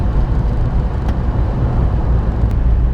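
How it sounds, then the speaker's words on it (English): Road noise inside a 1998 Daihatsu Sirion doing 60 on a wet road in Wales: a steady low rumble with tyre hiss from the spray, continuous and fairly loud, without talk. "we're doing 60 at the moment and it's not overly loud. There's a bit more road noise than normal because it's a really wet day"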